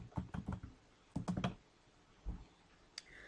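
Keystrokes on a computer keyboard come close and faint in two quick bursts of rapid clicks, then a few isolated taps with pauses between, in an otherwise quiet room.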